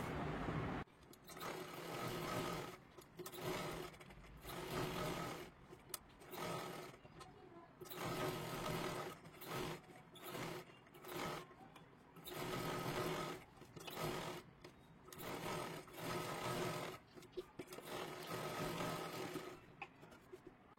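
A sewing machine stitches around the curved cup of a katori blouse, running in repeated bursts of steady whirring separated by short pauses, fairly close and faint overall.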